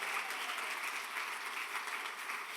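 A church congregation claps together in a dense, even wash of applause, steady and fairly loud, with no voices standing out.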